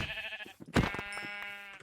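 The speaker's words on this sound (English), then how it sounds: "Oh, a pink sheep." A pink sheep bleating in a cozy island farming game, a single clear wavering bleat up close, alone without talk.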